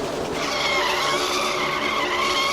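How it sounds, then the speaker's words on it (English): A NASCAR race car in a video game skids at Daytona and slams into the inside wall, giving a loud, sustained tire screech over engine noise. "And a hard hit in the inside wall."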